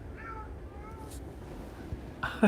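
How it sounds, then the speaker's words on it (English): A cat meows softly indoors, a couple of faint drawn-out calls early on over quiet room noise, ending in a sudden louder clatter. "Do you hear her meowing?"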